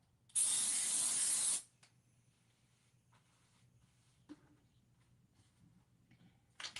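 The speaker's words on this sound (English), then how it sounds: "Where is the darn basting spray?" Basting spray for quilting fabric, one loud close hiss lasting just over a second, followed by quiet handling clicks and rustles.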